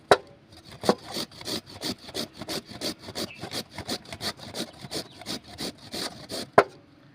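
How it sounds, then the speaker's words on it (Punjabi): Carrots grated by hand on a kitchen grater, a steady run of rhythmic rasping strokes, close and fairly loud, about twenty scrapes in quick even succession with no talking. "ਕੁਝ ਗਾਜਰਾਂ ਨੂੰ ਸਾਰੀਆਂ ਨੂੰ ਕੱਦੂਕਸ ਕਰ ਲਾਂਗੇ"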